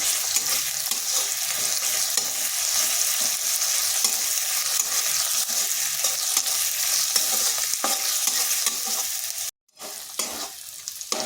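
A constant close sizzle of ginger and garlic frying in hot oil, with a few stirring clinks and a brief pause near the end.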